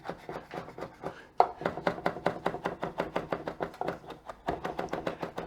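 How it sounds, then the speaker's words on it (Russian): A knife chops rapidly on a board, finely shredding rolled leaves for a beef, tomato and porcini mushroom carpaccio, a steady fast run of close, crisp strokes with one brief pause near the end. "вот так вот сворачиваю и шинкую очень как можно мельче"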